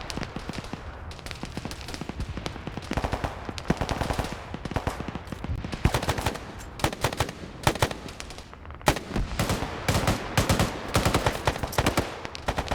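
Dense video game gunfire from a Falklands battle rattles back and forth between British and opposing troops, with rapid overlapping bursts and single cracks, some automatic, loud and continuous from near and farther positions.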